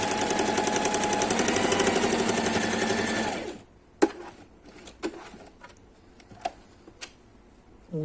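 Sewing machine stitching a fabric mask, a steady dense mechanical whir running continuously for about three and a half seconds, then stopping, followed by quiet clicks and fabric handling.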